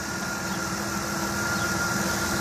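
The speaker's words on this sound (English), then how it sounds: "You can hear the van run." A 1998 Dodge Caravan wheelchair-accessible van engine idles steadily with the hood open, a continuous mid-low hum and drone at close range with no talking.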